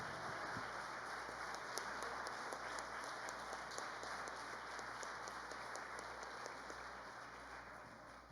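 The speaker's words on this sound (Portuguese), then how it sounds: "Então vamos aplaudir ao Senhor por isso?" Church congregation applauding at a family gathering, a steady, fairly quiet wash of many hands clapping that carries on evenly throughout with no voices over it.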